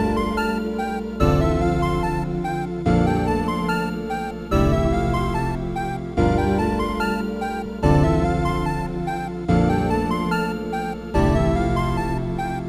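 Melodic sample loop for a beat, a bright repeating keys-like phrase cycling evenly about every second and a half, steady and alone.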